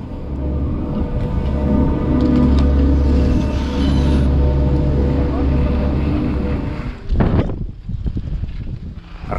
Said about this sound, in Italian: Raffiche di vento molto forte